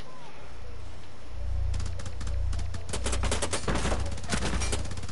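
Gunfire in the tactical shooter Rainbow Six Siege: a dense run of sharp shots and bursts crackles over a steady low game rumble, with no talk heard.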